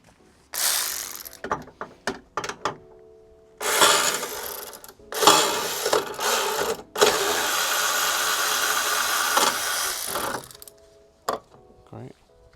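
A hand ratchet clicks in quick bursts removing wing bolts on a crashed Mercedes CLA, close and sharp, with pauses and occasional clunks of tools between runs.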